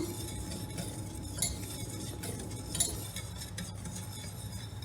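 Soft scraping and light clinks of a spoon mixing sugar and cocoa powder in a pot, repeated in an uneven rhythm, close and fairly quiet.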